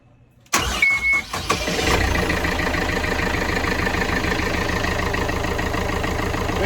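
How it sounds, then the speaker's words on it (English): A boat's inboard engine cranks and catches after a moment of quiet, then settles into a loud, steady idle that runs on alone with no voices. "We're starting the engine."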